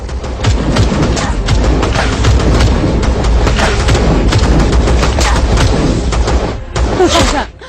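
Rapid volleys of celebratory gunfire crack and boom almost without pause, loud and dense, like many guns firing together, with no break for several seconds.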